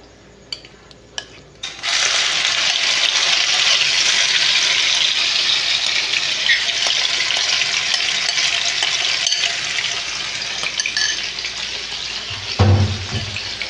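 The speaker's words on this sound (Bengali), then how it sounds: "গোটা জিরেটা একটু ভালো করে ভেজে নিতে হবে" Whole cumin seeds hit hot refined oil after a few quiet clicks, and a loud sizzle bursts out. The fierce frying hiss holds steady for over ten seconds, close by, and ends with a brief clatter.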